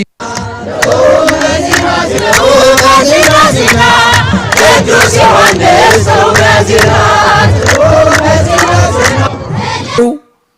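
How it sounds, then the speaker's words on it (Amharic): A large crowd at an Ethiopian Epiphany eve procession ululates and sings together, loud and continuous, with rhythmic claps or drumbeats running through the dense wall of voices. "በብዙ እልልታ በብዙ ደስታ እግዚአብሔርን እያመሰገኑ ታቦታቱን እያጀቡ እየዘመሩ እልል እያሉ ድምፃቸውን እያሰሙ"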